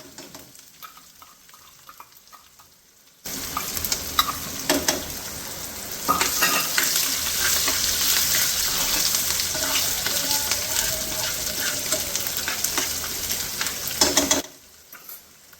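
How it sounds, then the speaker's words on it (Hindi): Finely chopped garlic and green chillies hit hot oil with cumin, curry leaves and asafoetida, setting off a sudden loud sizzle that continues steadily with stirring and pan clatter, then stops abruptly. "और हींग के बाद मैंने इसमें डाला था जो मैंने बारीक काट के रख रखा था लहसुन और हरी मिर्ची, तो इन दोनों को मिला दिया था मैंने"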